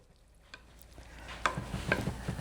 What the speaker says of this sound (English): Kind of mix it up a little bit.